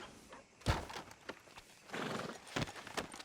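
Horse hooves clip-clop in Red Dead Redemption 2 in a town street outside a sheriff's office, as a few irregular, moderately close thuds, with a brief snort or whinny and faint background ambience, no talk.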